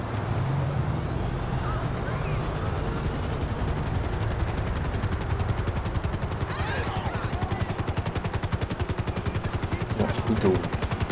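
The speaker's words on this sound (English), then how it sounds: "Please don't crash my helicopter." A helicopter in Grand Theft Auto V flies close, its rotor chopping in a fast steady pulse throughout, with engine drone underneath and a few brief sharper sounds.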